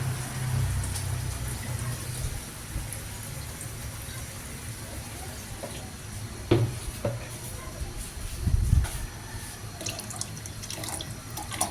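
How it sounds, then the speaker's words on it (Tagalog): Water pours from a tap into a cooking pot for a Filipino banana-and-sweet-potato dessert, making a steady rushing splash with a few clinks and bumps of cookware. "So, lagay ko lang tubig."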